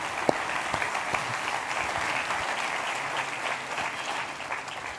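A church congregation at a ministry retreat applauds together, steady moderate clapping from a large group with a few sharper claps standing out, continuing evenly throughout.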